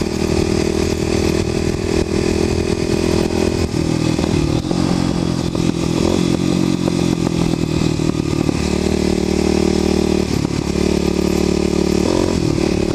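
A Kawasaki KLX250sf motorcycle riding at moderate speed through farmland, its single-cylinder engine buzzing loud and close with rough clatter and wind, pitch shifting as the throttle changes.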